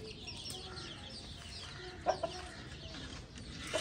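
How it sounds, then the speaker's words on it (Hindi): Chickens cluck softly in a farm enclosure as a rooster is lifted out, with a few sharper squawks near the middle and end over a steady low background. "यहाँ से मैं एक मुर्गा निकाल लूँ"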